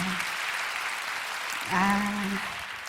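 An audience at a church prayer gathering applauds, a soft, continuous patter of clapping, while a voice speaks briefly over it toward the end.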